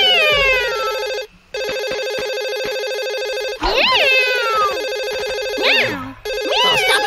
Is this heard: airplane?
no